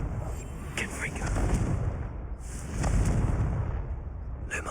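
Confringo spell blasts in Hogwarts Legacy burst out as two broad, booming explosions that swell and fade, with a voice calling out between them.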